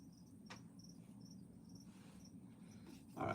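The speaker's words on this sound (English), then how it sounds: "You hear the crickets?" Crickets chirp in short repeated high trills at a steady pace, faint against a low background murmur, with a brief louder rustle near the end.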